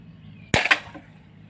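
A gun-shaped crossbow firing once after its safety is released, a single sharp snap and twang up close followed by a brief rattling decay, in an otherwise quiet setting.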